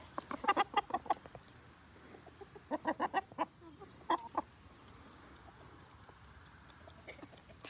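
A rooster in a chicken yard clucks to call hens to treats, quiet bursts of rapid clucks in two or three clusters against a faint outdoor background.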